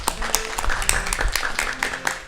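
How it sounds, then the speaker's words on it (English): Audience applause for an accordion player after a live Indian-style music performance, a fairly loud patter of individual claps from a modest crowd, uneven and crisp, without talk. "I want you to give him a round of applause."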